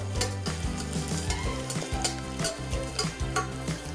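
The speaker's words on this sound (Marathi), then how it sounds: "सौते करूया." Onion and bay leaves sauté in hot oil in a pan for chicken khichdi. A close, continuous sizzle is broken by rhythmic stirring scrapes about twice a second, with no voices.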